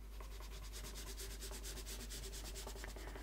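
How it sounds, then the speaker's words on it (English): A pencil is drawn heavily along a ruler on paper while lettering, giving a continuous close, dry scraping rub with rhythmic stroke pulses throughout, no voices. "I'm going to put the weight on the pencil here"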